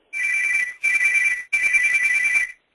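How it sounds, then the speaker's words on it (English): Electronic telephone ringtone trilling in the background of a presentation, three long steady bursts with brief gaps between them, loud and clear with no talk over them. "there seems to be a phone ringing quite wildly behind there"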